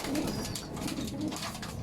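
Racing pigeons coo softly in two low, rolling calls close by, set against a steady background hiss with no talking.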